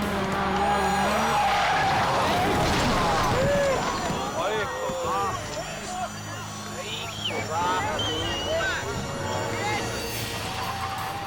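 A race car, a blue coupe, skids and fishtails after losing traction at speed, with loud tire and engine noise sustained throughout under a narrator's voice.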